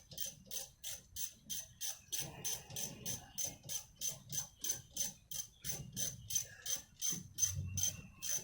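A ratchet tightens a brake bolt on a 2015 Mazda3, giving a steady run of about twenty quick, evenly spaced metallic clicks, close and clear, with a faint low rattle of the bolt beneath.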